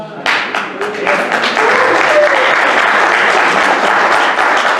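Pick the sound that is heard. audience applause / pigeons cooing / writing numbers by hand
audience applause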